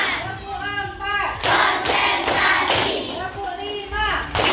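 Children clapping in counted groups during a classroom lesson, bursts of loud hand claps separated by a teacher's voice calling the counts, close and echoing in a room.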